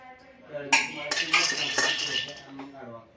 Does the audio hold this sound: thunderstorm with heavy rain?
no